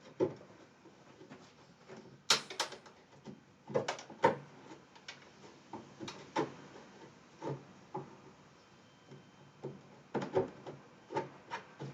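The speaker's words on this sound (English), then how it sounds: "Use the file and get that flat." A hand file rasps across wood during a custom guitar build, in short, uneven bursts of scraping strokes separated by brief pauses, fairly quiet and close.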